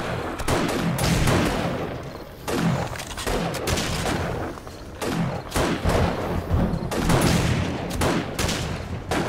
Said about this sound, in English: At least having this three-shot hunting rifle is helpful.